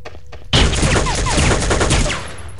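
After a brief quiet moment, a sudden burst of rapid gunfire from a weapon in the video game Soldier of Fortune II erupts, dense and loud, continuing for about two seconds.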